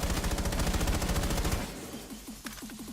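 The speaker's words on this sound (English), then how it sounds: "we're going to start with the AK-12. This does have the flash hider on it, so it's better at burst, but I'm just going to go full auto" AK-12 assault rifle with a flash hider firing full auto in a video game: a rapid, loud, evenly spaced burst lasting about a second and a half, then fading into echo and scattered shell clinks.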